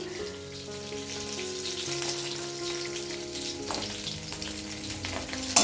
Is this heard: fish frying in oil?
yes